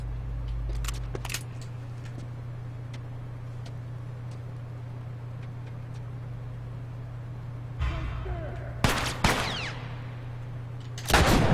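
Gunfire from a newly acquired weapon in The Last of Us Remastered comes as a few sharp, loud bursts spread across the stretch, separated by quieter game ambience with a low steady hum.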